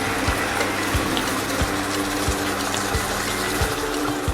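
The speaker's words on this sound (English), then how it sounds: "Add little bit of water" Water poured into a pan of frying chicken liver and gizzards, a steady rushing hiss with faint rhythmic low thuds underneath, close and continuous, no talking.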